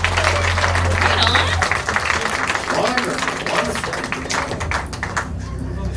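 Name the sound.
audience applause for a psychic show performer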